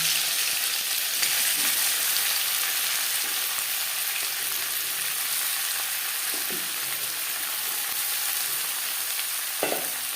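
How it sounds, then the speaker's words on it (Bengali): Chopped onion and tomato frying in oil, likely mustard oil, for a Bengali khoira fish jhal, giving a dense continuous sizzle close up for the whole stretch, with a couple of faint utensil knocks and no speech. "মাছ ভেজে নেওয়াতে দিয়ে দেব পেঁয়াজ কুচি আর টমেটো"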